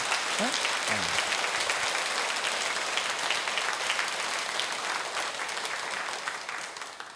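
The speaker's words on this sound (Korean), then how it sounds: "우리 한번 박수 한번 쳐서 보냅니다" An audience claps steadily through a lecture hall in a sustained round of applause, dense and even, tapering slightly toward the end, with a brief voice at the start.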